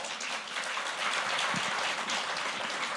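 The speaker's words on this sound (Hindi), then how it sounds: "इसके लिए तालियां बजनी चाहिए।" A studio audience at a televised Punjab political interview breaks into applause, a full, dense patter of many hands that holds steady and fairly loud for a few seconds.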